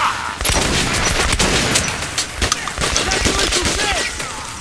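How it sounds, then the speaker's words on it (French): Heavy gunfire in Metro Last Light, with dense, overlapping bursts and sharp cracks running loud and nearly nonstop, rattling close by for several seconds. "je prends des tirs quand même, là"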